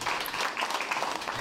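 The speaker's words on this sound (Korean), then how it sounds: "곧 장내는 신창하 회장의 인준을 축하하는 박수 소리로 가득 찼습니다" Applause filling a hall as the new president of a Korean community association is confirmed, a steady dense wash of clapping from a crowd, fairly distant and soft.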